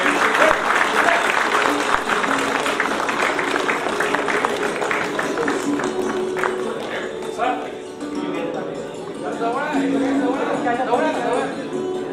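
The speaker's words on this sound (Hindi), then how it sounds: "जोरदार तालियों से IITL के छात्रों का अभिनंदन करते हुए" An audience at a convocation ceremony applauds steadily in a hall, dense clapping that thins a little toward the end, with some voices mixed in.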